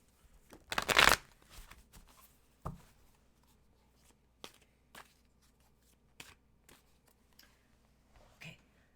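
Tarot cards being shuffled during a live reading, one loud riffling burst near the start followed by scattered soft taps and card handling, quiet and close.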